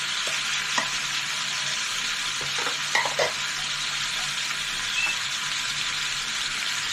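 Chicken pieces frying and being stirred in a pan for an achari chicken curry with mango pickle, giving a steady close sizzle broken by a few sharp scrapes and clinks of the spoon.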